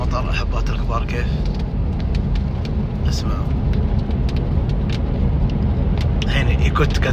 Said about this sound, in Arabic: اسمع اسمع صوت المطر